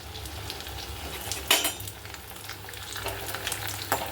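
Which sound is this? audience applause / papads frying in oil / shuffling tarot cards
papads frying in oil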